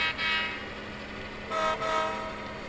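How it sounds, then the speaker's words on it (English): Two trains passing each other on a main line and siding, heard as a steady rail rumble with a sustained horn-like tone and two louder swells of passing wagons. "and the trains pass"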